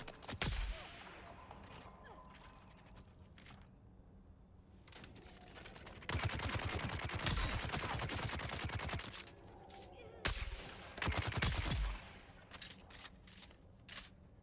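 Gunfire from the video game Dune Awakening, heard as bursts of rapid shots with quieter gaps between them and some faint speech.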